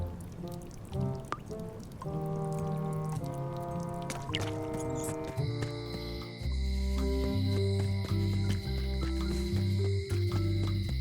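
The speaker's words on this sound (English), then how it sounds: "They finally installed running water." Water leaks and pours steadily in a leaky place in the Return to Monkey Island adventure game, a continuous trickle and splash under bright tonal music that grows louder and fuller midway.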